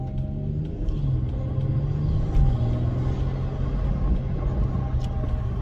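A BMW M140i with its exhaust double resonator deleted, a deep, steady rumbling exhaust note close by, with a slight swell in pitch midway as the engine is revved.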